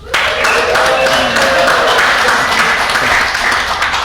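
Studio audience cheering and applauding to vote for a tweet at a panel event, a sustained, dense wash of clapping and whooping that holds loud and steady from start to finish.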